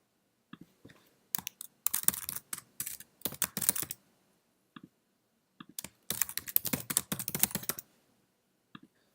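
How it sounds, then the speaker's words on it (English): Names typed on a computer keyboard in two quick bursts of close, crisp key clicks separated by a short silence, quiet room with no talking. "I added those reviewers just by typing their names."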